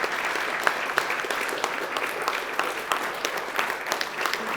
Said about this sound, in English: We should clap for the groom, everybody.